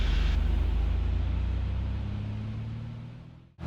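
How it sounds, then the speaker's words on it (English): A small airplane's engine, with carb heat in, rises as the throttle is smoothly advanced, becoming a loud steady rumbling drone that fades over a few seconds before cutting off. "smoothly advance throttle"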